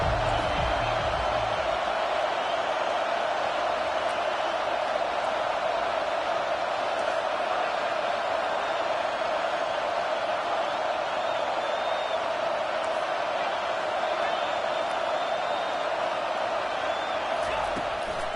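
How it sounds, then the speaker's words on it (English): Stadium crowd at a UCLA vs Texas A&M football game on a defensive third down, a steady, loud roar that fills the whole stretch while a commentator talks over it. "Decibels rising as the crowd gets behind this defense on 3rd down"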